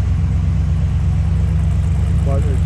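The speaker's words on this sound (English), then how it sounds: "here's the dual exhaust and slight rumble, but what you would expect in the 50s and 60s cars" A 1959 Plymouth Sport Fury idles close by with a steady, deep, low rumble from its dual exhaust, even and continuous for a few seconds.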